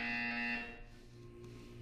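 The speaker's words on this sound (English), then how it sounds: "You will hear a buzzer." A loud electronic buzzer sounds in Portal 2, a harsh tonal drone that stops after about half a second and leaves a quieter hum.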